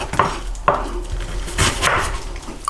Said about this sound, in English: I'm not very good at chopping onions